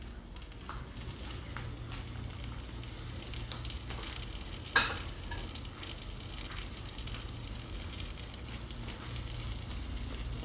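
Mushrooms cooking in melted butter in a pan give a soft, steady sizzle, faint and close, with a single brief clink midway and no talking.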